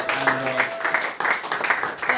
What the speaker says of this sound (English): Give them a round of applause as they come through.